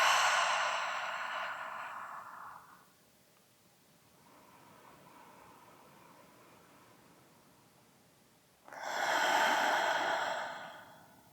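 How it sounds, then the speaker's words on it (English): Close, breathy airflow during a heart-opening yoga flow: a long, full inhale through the nose, a quieter gap, then a slow, strong exhale through the mouth that swells and fades, with no talking. "take a full and big inhale through the nose. And a slow exhale through the mouth."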